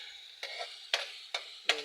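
Food being stirred in a cooking pot, four sharp scraping clinks spaced evenly against a low sizzling hiss, faint and close, with no talking.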